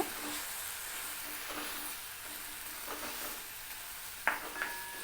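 Cut idli pieces being stirred into a masala in a pan, a soft steady scraping and sizzle throughout with a couple of sharper clinks near the end, close by and without talk.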